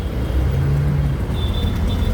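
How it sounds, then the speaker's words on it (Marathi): Heavy road traffic in Dwarka heard from inside a moving auto rickshaw: a close, continuous engine rumble and road noise with a faint tonal whine partway through. "हे बघा द्वारकेवरती किती ट्रॅफिक लागलेली बघा सगळीकडे गाड्याच गाड्या आहे"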